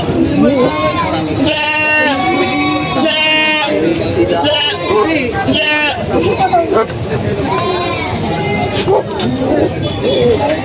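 Several goats bleat repeatedly, close by and loud, their wavering cries overlapping with people chattering in the background, at a goat market in Padre Garcia, Batangas.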